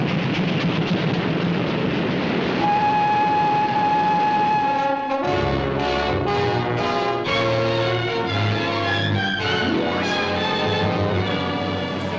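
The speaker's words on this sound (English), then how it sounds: "The train doesn't go any further." Train in a 1942 film rumbles with a heavy, continuous mechanical roar, with steady tones and shifting clatter throughout, loud and close, without speech.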